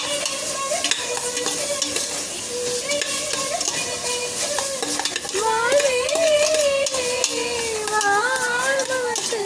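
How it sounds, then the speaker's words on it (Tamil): Tomato biryani stirred and mixed in a sizzling pan, with a steady frying hiss, scraping spoon strokes, and a voice speaking in the background. "நல்லா மிக்ஸ் பண்ணணும்"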